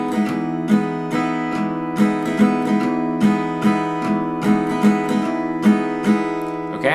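Steady acoustic guitar strumming in a six-count pattern, with regular accented strokes, sustained chords ringing clearly throughout.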